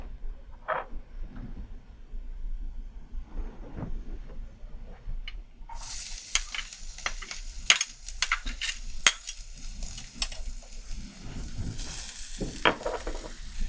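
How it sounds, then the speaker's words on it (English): Garlic sautés in a pan for a soybean sauce, a faint crackling sizzle that builds after a quiet start, with scattered clinks and scrapes from stirring and no speech. "Turn on the fire and saute the garlic."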